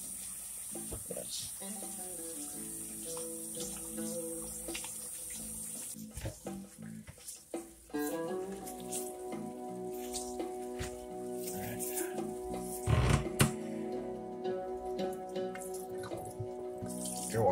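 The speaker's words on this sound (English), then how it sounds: "I'm going to wash my jasmine rice and get it ready" Tap water running into a bowl as jasmine rice is washed, a steady splashing stream close by that rises in the second half, with a short spoken word over it.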